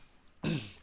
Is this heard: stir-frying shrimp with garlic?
no